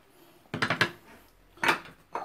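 A plate is fetched and set down with a quick cluster of clattering knocks, then a second clink and a final lighter tap, close and fairly quiet.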